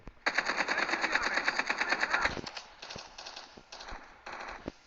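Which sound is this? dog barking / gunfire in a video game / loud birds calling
gunfire in a video game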